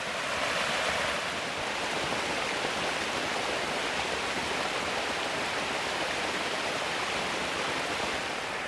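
A waterfall in Utah roars steadily nearby, a constant broad rush of falling water with no other sounds.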